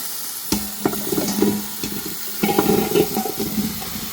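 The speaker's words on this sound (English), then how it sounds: "I'm going to dump in my veggies" Vegetables tumbling into a hot Instant Pot where a beef roast is sizzling, with a couple of distinct thuds and clatters followed by a crackling, bubbling sizzle, close and with no speech.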